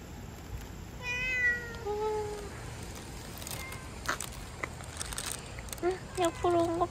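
A cat meows a few times in a café, a drawn-out cry early on followed by shorter meows near the end, close by and moderately loud over soft room chatter and ambient noise.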